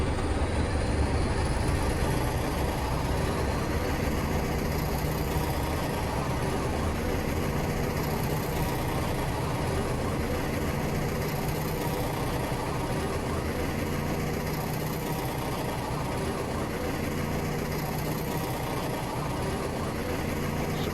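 Class 20 diesel locomotive in Train Simulator Classic throttling up on an uphill climb, a steady, loud low engine drone with rail rumble running continuously throughout with no talk.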